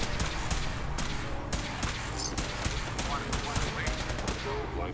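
Rapid gunfire from the video game Fallout 4, dense bursts of shots crackling one after another across the whole stretch, loud and busy over a steady game soundscape.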